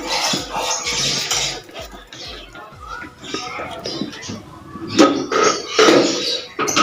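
A knife levels a round cake and slices it into layers, giving scraping and light metallic clinks against the board. Irregular bursts come close up, with some soft voices in the background.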